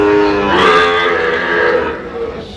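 Sahiwal breed calves at a cattle market, one loud close drawn-out moo rising and falling over about two seconds, with a faint rumble of the market behind.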